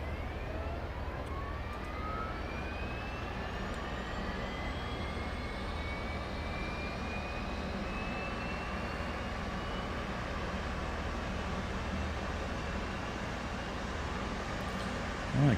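An F/A-18 auxiliary power unit spools up inside the DCS flight simulator game, a steady broadband turbine roar with a thin whine slowly rising in pitch throughout, continuous and fairly loud without talk.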